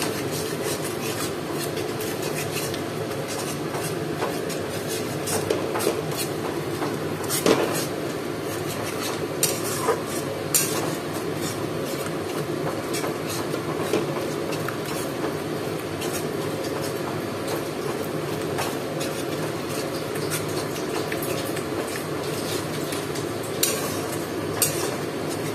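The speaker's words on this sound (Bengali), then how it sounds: "টক দই দিয়ে ভালো করে কষাতে থাকবো আবার।" Meat masala with sour yogurt being stirred and cooked down in a pot for homemade restaurant-style biryani, a steady scraping and bubbling texture with occasional spoon-on-pan clinks throughout.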